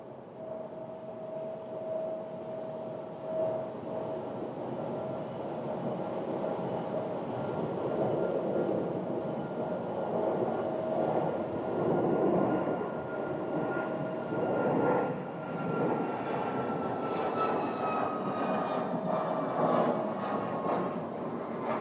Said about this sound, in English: There's that southwest departure on runway 7 left.